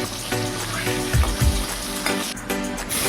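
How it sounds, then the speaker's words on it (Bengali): Eggs fry in hot oil and ghee in a wok, a loud, steady sizzle with crackling spatters and a couple of low thumps as they are stirred. Nobody talks. "তেল ও ঘি গরম হয়ে গেলে ডিমগুলো দিয়ে দিলাম। ডিমের মধ্যে সামান্য নুন ও কাশ্মীরি লঙ্কার গুঁড়ো দিয়ে ডিমগুলো হালকা করে ভেজে।"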